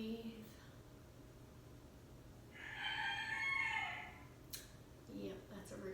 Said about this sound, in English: Yep, that's a rooster.